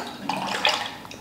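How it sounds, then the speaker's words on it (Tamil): Water and milk poured into a cooking pot for a ragi breakfast, a steady splashing, gurgling pour heard close and alone, with no talk. "மூணு டம்ளர் தண்ணி ஒரு டம்ளர் பால் ஊற்றிருக்கேன்."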